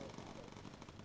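Aircraft gunners firing machine guns in the video game Bomber Crew, a faint, dense rattle of rapid bursts running throughout the short stretch.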